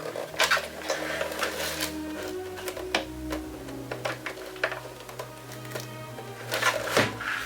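A Gina K Fuse foiling machine runs with a steady mechanical hum, low motor drones and scattered clicks and clatters throughout, with a louder burst near the end.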